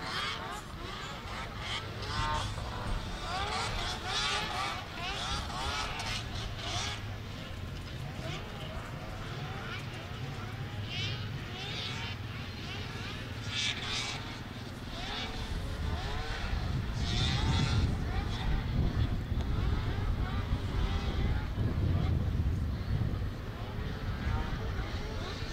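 Three-cylinder two-stroke ditch banger triples race off the line together, a buzzing, rising engine roar that swells louder midway, with a crowd and an announcer's voice heard over it.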